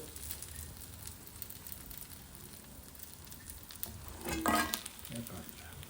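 Ridge gourd bhaji frying in hot oil, a soft continuous sizzle and bubbling, close and faint, with a brief louder crackle near the end.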